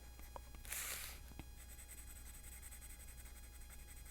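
A colored pencil lays color across paper while drawing emerald gems, making a faint, soft scratchy rustle close by, with one brief louder stroke early and light continuous strokes after.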